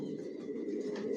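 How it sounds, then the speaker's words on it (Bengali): Pet racer pigeons in a breeding loft coo softly and continuously, a low warbling murmur close by with no talking. "টপ কোয়ালিটির কবুতর পালি, এগুলো আমার বিডার।"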